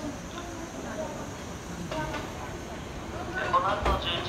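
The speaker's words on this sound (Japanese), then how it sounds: "回送列車発車です。" An out-of-service train rumbles and hisses as it pulls away from Omiya Station track 11, with Japanese announcements over station ambience and a sharp clank near the end.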